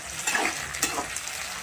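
Chopped tomatoes sizzling and frying in a pan as they are stirred, a soft steady crackle with a few light scrapes of a spoon, close and quiet, no talking.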